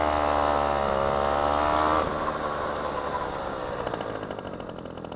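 An LRX 50cc scooter with a 1E41QMB engine and a deliberately slipping clutch buzzes hard as it pulls away, then the whine thins and fades as the scooter rides off into the distance.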